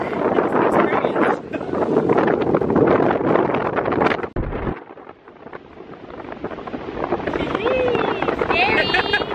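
Strong wind gusting around Gatteville Lighthouse, a loud, continuous roar buffeting the microphone, dipping briefly midway before surging back, with people talking faintly underneath.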